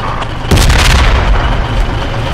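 Grenade exploding in the military shooter game Project Reality, a single sudden loud boom followed by a heavy rumbling roar that slowly fades.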